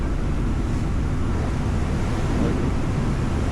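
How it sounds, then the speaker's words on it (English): A ferry ride home from a surf trip in South Chiba, Japan: a steady, loud rumble of engine, wind and water fills the deck without a break, with no clear voices over it. "I think this boat ride is about 30-40 minutes."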